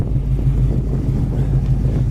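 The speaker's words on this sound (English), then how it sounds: "I'm guessing that's 3-inch exhaust from the front to the back, and it's a very solid undercarriage and a great sounding exhaust" A 1974 Pontiac GTO idles through a 3-inch exhaust, giving a loud, steady low rumble with a throbbing pulse and some wind buffeting at the microphone.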